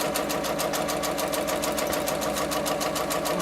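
A sewing machine stitches quilt strips trimmed with ric-rac, its needle pulsing in a fast, steady rhythmic whir, close and continuous with no talk.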